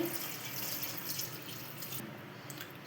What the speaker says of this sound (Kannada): ಸ್ವಲ್ಪ ನೀರು ಹಾಕೊತಾ ಇದ್ದೀನಿ